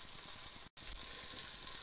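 Mushrooms fry in a pan while cooking for a vegetarian pasta, giving a steady close sizzle with a brief dropout partway through and no voices.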